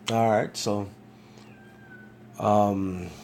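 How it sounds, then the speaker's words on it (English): A cat meowing outside, with several drawn-out meows in two close bursts separated by a quiet gap, and someone briefly speaking over the start. "There's a cat outside meowing right now"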